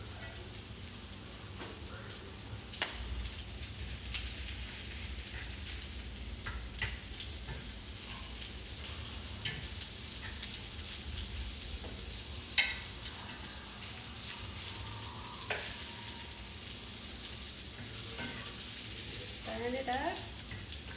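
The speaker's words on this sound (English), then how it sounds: "let's give our vegetables a good mix again." Smoked sausage links with peppers and onions fry in a pan, giving a steady, even sizzle throughout while a utensil stirs them now and then, with occasional sharper scrapes and clacks standing out above the hiss.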